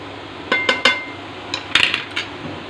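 Spices are mixed into bitter gourd sabzi in a pan with a spoon, making a handful of sharp metallic clinks and scrapes in two short bursts over a quiet background.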